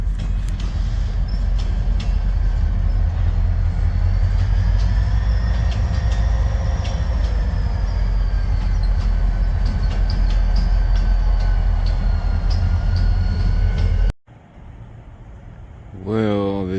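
A freight train of trash and well cars rolls along the tracks, a loud steady rumble of wheels on rail with faint high metallic squeals running throughout, then a sudden drop and a brief surge near the end.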